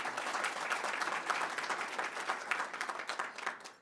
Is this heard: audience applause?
yes